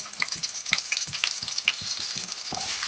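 A small onion sizzles in hot oil, a faint crackling hiss scattered with quick sharp pops and spits.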